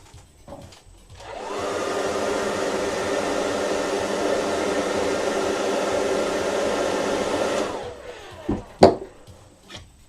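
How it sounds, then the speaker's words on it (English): A hair dryer blows loudly and steadily for several seconds, then cuts off, followed by a few faint clicks and knocks. "Excuse me, I need to hairdry."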